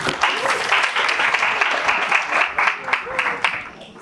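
Audience at an evening talk event giving a steady round of applause, dense and fairly loud clapping throughout, with a few faint voices and a brief whoop mixed in near the end.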